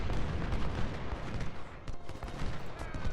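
Cannon and musket fire in the Civil War strategy game Ultimate General: Civil War rattles on in dense, overlapping volleys from a tree line, with sharp cracks and deeper booms layered over a continuous battle din.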